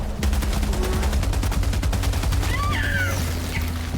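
A heavy machine gun in the video game Helldivers 2 fires a rapid, steady burst of evenly spaced loud shots over a deep rumbling bed, with faint chirping game effects near the end.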